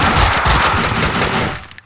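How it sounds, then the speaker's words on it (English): Rapid bursts of gunfire in the video game Max Payne 2, loud dense automatic shots that rattle for about a second and a half before cutting off to a few trailing pops. "Someone must have heard the gunfire."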